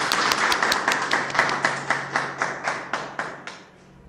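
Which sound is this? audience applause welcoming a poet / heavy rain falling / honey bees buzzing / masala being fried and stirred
audience applause welcoming a poet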